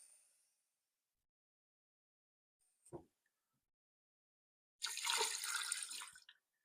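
Water poured over beans in an Instant Pot comes in short bursts: a brief splash, a small drip, then a louder pour lasting over a second, with silence between.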